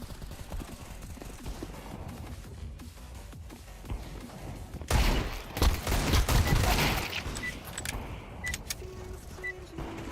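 A burst of rapid gunfire erupts midway, loud and dense for a couple of seconds, then trails into scattered shots over quieter background game noise.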